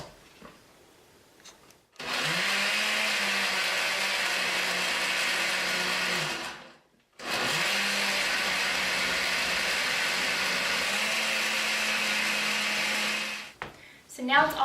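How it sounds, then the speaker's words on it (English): An electric blender purées gazpacho ingredients, including vinegar, in two long, loud, steady whirring runs separated by a brief pause, with a faint voice before and after. "And we'll blend."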